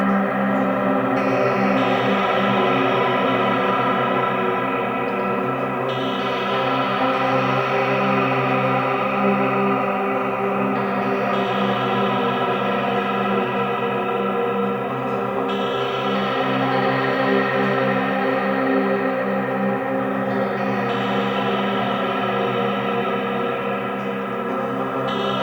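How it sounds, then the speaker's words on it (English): Music signal processed through delay and echo effects during a livestream, a sustained layered tone with repeating smeared echoes swelling and fading in cycles, steady and fairly loud with no talking. "Now let's put some delay on it too, or some echo"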